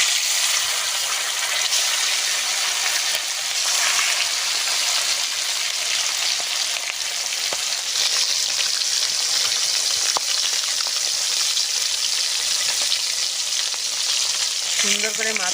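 Fish pieces sizzle in hot oil in a pan, a dense and continuous crackle that stays close and loud from start to finish.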